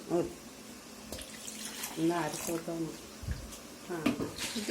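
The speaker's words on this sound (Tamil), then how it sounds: "தண்ணி கொஞ்சம் எடுத்து ஊற்றிக்கலாங்க." Water is poured into a hot pan of tempering for a tomato chickpea kurma, a brief splashing and sizzling heard beneath a person talking throughout.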